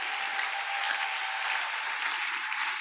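A church congregation claps and cheers in steady, dense applause that fills the room without a break, acclaiming the Lord during a sermon.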